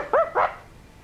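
Two sharp, close barks from a dog named Bouncer, one quickly after the other, then a faint tail of room noise.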